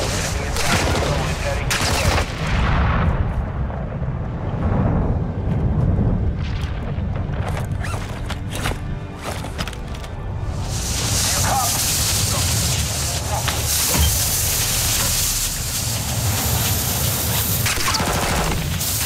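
Dense, loud gunfire in Call of Duty Modern Warfare 2 DMZ: sustained bursts of automatic weapons and booming shots roll on almost without pause, with a player speaking over the chaos.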